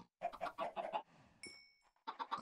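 A chicken in the Minecraft video game clucks in several quick bursts of short, close calls, pausing briefly before another run of clucks.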